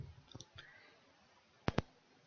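Computer mouse clicking while working in Autoplotter software: two quick, crisp clicks close together near the end, after a few faint ticks earlier, in an otherwise quiet room.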